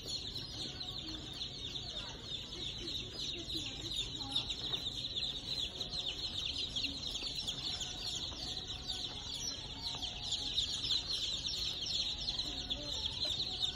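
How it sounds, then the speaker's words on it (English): Chicks and chickens cluck and peep in a steady, continuous chorus, close and fairly loud, with small scattered chirps and fluttering throughout and no voices. "Yeah, birds."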